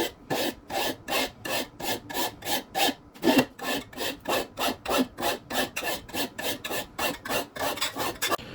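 A hand file rasps back and forth across knife bevels in steady, even strokes, each pass a loud close scrape, continuing without pause for several seconds with no voices.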